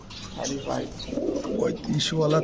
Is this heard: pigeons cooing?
yes